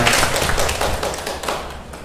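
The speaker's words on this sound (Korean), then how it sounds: "다시 한번 감사의 박수 하겠습니다" Church congregation clapping in thanks for its educators at a training graduation ceremony, a brief, loud, dense burst of applause that tapers off.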